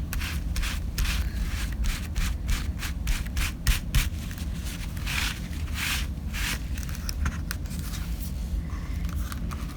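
Steady, close rubbing of ink onto an embossed paper background, a continuous dry scrubbing texture with rhythmic strokes throughout and no talking.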